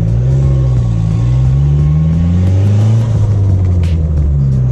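Dodge SRT-4 engine held at a steady, loud idle-to-mid rev, a continuous deep rumble with a slowly wavering pitch and no pauses.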